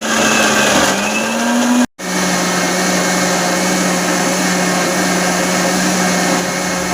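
Kitchen mixer grinding coconut chutney, a steady loud motor whine with a brief cutout near two seconds before the grinding resumes, no voices.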